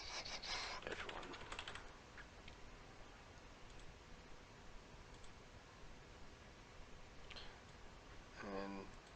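Typing on a computer keyboard, with quick bursts of clicking keys at the start and again near the end, over a faint steady background hiss.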